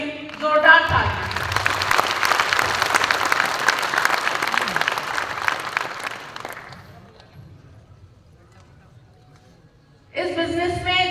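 Loud, sustained applause from a crowd at an RCM business meeting that gradually fades out, followed by a voice starting to speak.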